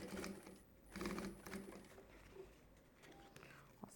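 Sewing machine stitching a small fabric backpack in short quiet bursts separated by pauses, with faint handling sounds between runs.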